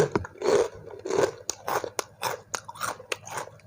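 Someone bites and chews crunchy fried noodle topping from a bowl of spicy yen ta fo noodle soup, giving close, rhythmic crackling crunches repeated several times.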